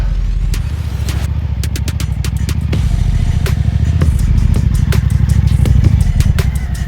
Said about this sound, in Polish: A tutaj Michaś wspina się dzielnie nad górę, Maćka motocyklem.